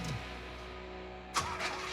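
A Pontiac Trans Am with a turbocharged engine cranks and fires, a short burst of starting noise, then settles into a quiet, steady idle with a second flare of revving.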